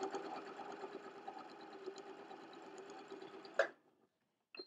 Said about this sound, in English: let's keep stitching straight on the line